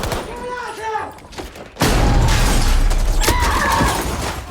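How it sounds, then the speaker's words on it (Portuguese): Gunfire and explosive blasts from a war film or video game, loud and dense, with a burst of heavy shots and impacts filling the second half over a rumbling, chaotic battle background. "com muita ação, tiros pra todo lado"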